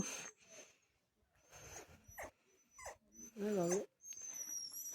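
Dogs at a homestay in Tumling, near Darjeeling, whimper and yip in short bursts, with a louder tonal whine near the middle, amid people talking close by.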